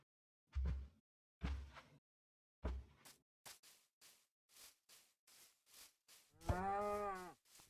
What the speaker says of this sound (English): in the back you can clearly hear the cow get hurt